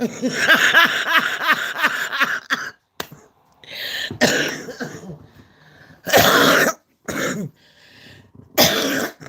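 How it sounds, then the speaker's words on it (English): Close, harsh coughing in repeated bursts with short pauses between, mixed with throat clearing and no speech. "she's making me cough, people"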